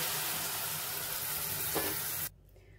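Edible gum fried in ghee, sizzling loudly and steadily. A brief splash is heard as milk goes in, and the sound then cuts off into near-quiet.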